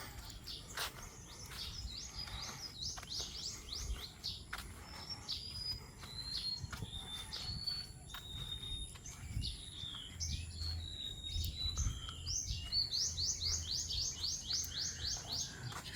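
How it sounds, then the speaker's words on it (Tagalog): Songbirds chirp and trill on a farm at dawn after overnight rain, a continuous chorus of short repeated calls and rapid trills at moderate distance over soft ambient noise, no talking. "Sarap pakinggan guys ng ibon na kumakanta."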